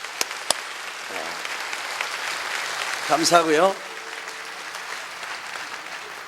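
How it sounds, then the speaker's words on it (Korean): A church congregation at a Korean Sunday worship service claps warmly and steadily for visiting ministers, a soft wash of applause running under a brief spoken line from the front. "우리 같이 박수 한번, 뜨거운 박수 한번 하겠습니다"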